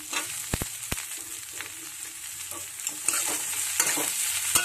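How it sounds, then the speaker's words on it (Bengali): Capsicum fries with onions in a pan, giving a continuous soft sizzle broken by sharp clicks and scrapes of a utensil stirring. No one speaks. "এবারে ক্যাপসিকামগুলো দিয়ে দেবো।"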